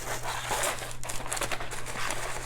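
Crinkly plastic and paper rustle steadily as a wrapped Etsy item is slipped into a shipping envelope, close and fairly loud, with a low hum underneath.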